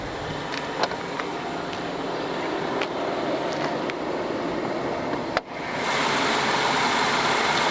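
A 2008 BMW 650i with a manual gearbox idles steadily with the hood up, a constant mid-range engine drone with a few faint ticks. At about five and a half seconds there is a brief dip in the sound.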